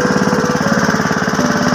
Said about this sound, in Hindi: जनरेटर जरा काम चलता पाया।